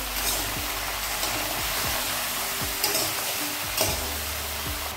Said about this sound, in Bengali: এই লাউটা আমি 1 মিনিট মতো কষিয়ে নিলাম হলুদ লবণ দিয়ে